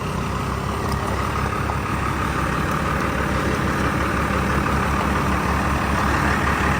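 A truck's engine idles at a workshop on arrival, a steady low rumble that runs evenly and close throughout with no voices over it.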